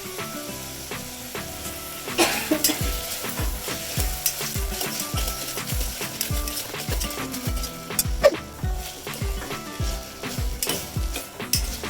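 Tomatoes and onions with salt fry in a pan, a steady sizzle running throughout while a spoon scrapes and stirs in repeated rhythmic strokes, fairly loud and close, with no talking.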